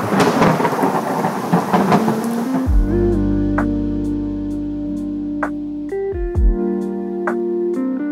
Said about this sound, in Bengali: বাজেভাবে বৃষ্টি হচ্ছে, বোঝা যাবে না।